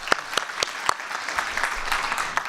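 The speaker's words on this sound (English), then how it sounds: "I think they deserve an applause." Audience applause at a public event, scattered, distinct claps that thicken into a steady patter over a couple of seconds, moderately near and alone.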